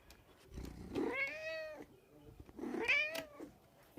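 A pet cat meows twice close to a phone microphone, two drawn-out rising and falling cries about a second apart, with no talking.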